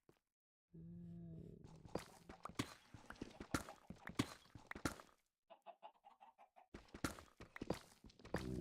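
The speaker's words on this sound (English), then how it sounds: "No, I just heard chickens." Clucking chickens in Minecraft SMP gameplay, short repeated clucks mixed with soft footstep-like clicks and a brief low tone at the start, fairly quiet and with no talking.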